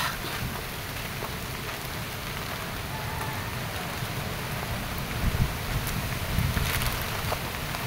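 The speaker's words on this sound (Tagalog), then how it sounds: "Dito malakas talaga yung hangin dito mga idol kasi nasa tuktok kasi ito ng bundok" Strong wind buffets a microphone on a mountaintop, a constant dense roar with gusts swelling near the end and faint rustling, no voices heard.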